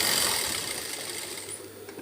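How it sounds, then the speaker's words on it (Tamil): A sewing machine runs in a fast continuous whir as it stitches around the edge of a piece of cloth, steady and close without talk. "நான் இப்போ உங்களுக்காக தான் இந்த சுற்றி தையல் போட்டு காமிக்கிறேன்"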